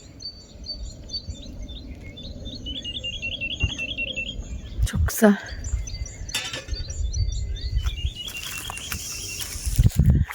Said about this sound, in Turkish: Kuş seslerini dinleyin.